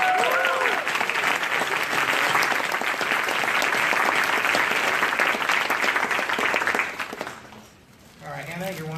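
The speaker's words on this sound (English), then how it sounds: "Round of applause." An audience claps for two student debate contestants at an evening campus event, brisk sustained applause that dies away near the end before a voice begins speaking.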